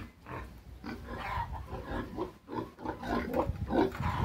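Domestic free-range pigs on a farm, including a large sow with a litter of four piglets, grunt and snort continuously and close by, in overlapping, irregular bursts with no talking.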